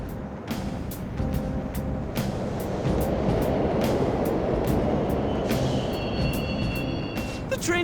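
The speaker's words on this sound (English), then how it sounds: "The trains are totally running!" Steady low rumble of subway trains running through a tunnel in the video game Persona 5 Royal, continuous and loud throughout with faint metallic squeals and clicks on top.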